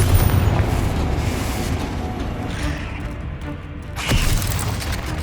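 A Confringo fire spell blast in Hogwarts Legacy on PS5, a dense booming rumble with a sharper burst of impact near the end, set against busy game sound and effects.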